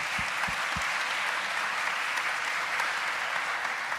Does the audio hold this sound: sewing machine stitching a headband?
no